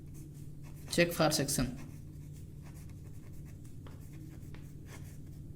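Brief close burst of writing on paper during an engineering lesson on doubly reinforced beams, a quick scratchy flurry about a second long, with someone talking around it.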